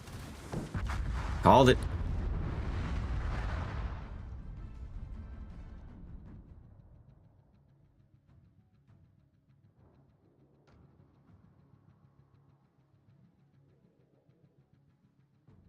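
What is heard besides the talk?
torpedo hits exploding on a ship in World of Warships, video game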